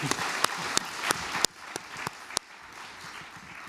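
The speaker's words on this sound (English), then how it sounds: "I will clap." Audience applause after a talk at a graphic design event, a short burst of clapping that thins out to scattered claps before fading, fairly quiet and heard alone.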